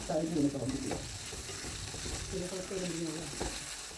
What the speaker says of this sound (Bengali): এখন গাজর আর আলুটাকে নেড়ে একটু নরম করে নিতে হবে।